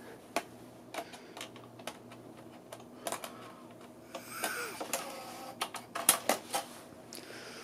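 A Nakamichi MB-10 Musicbank CD changer ejects and shifts discs. Quiet mechanical clicks and clacks come at irregular intervals, with a soft whirring motor passage in the middle, heard close and faint with no talk.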